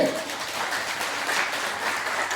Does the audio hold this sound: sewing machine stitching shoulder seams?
no